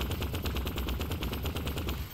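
Rifle in Vertigo Remastered fires on automatic, a rapid, evenly spaced burst of sharp shots rattling steadily with no pauses.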